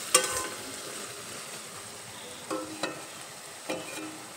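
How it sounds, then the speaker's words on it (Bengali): A spatula stirring elephant foot yam stalks with prawns in a kadai, giving a soft continuous sizzle with a few sharp scraping knocks near the start and toward the end. "দেখো কিছুক্ষণ নেড়ে চেড়ে নিলাম যাতে কড়াইতে লেগে না যায়।"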